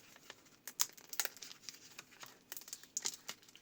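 A paper packet crinkles and rustles in bursts of crisp crackling as it is opened, close up, with brief pauses between handling noises.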